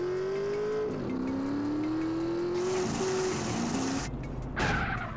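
Motorcycle in GTA San Andreas revving and accelerating, a sustained engine whine that rises and shifts pitch, followed by a screech and a sudden loud burst near the end.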